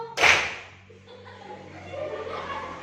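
One sharp hand clap rings out in a primary classroom's Indonesian clapping song, a single crisp slap near the start followed by a soft room murmur.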